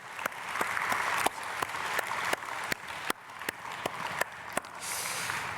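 Church congregation at a dawn prayer service clapping in blessing, a dense patter of applause punctuated by distinct loud single claps at fairly regular intervals, steady throughout.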